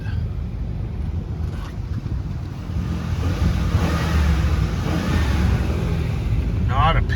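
A brown 2008 Ford Expedition Eddie Bauer idles and runs with a steady low engine rumble, heard alongside broad wind-like noise that swells slightly partway through.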